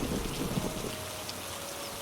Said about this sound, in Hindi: 4 दिन तक लगातार बारिश चलती रही।